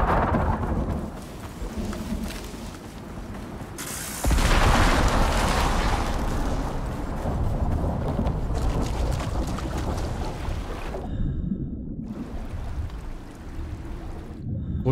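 A thunderstorm roars in the survival video game Ikarus, with heavy continuous rain, a sharp loud thunder crack partway through and sustained rumbling throughout, with no talking.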